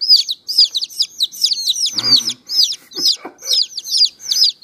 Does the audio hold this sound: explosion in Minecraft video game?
no